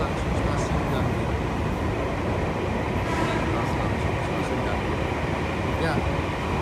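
A KRL Commuterline electric train runs straight through Gambir station on the Bogor–Jakarta Kota line, heard from inside as a loud, steady, unbroken rumble and rush of wheels and air.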